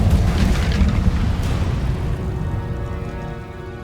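An Incendio fire spell cast in Hogwarts Legacy bursts out as a loud, dense whoosh of flame that swells at once, then slowly rolls and fades over several seconds.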